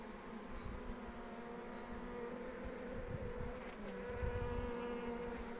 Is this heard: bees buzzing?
yes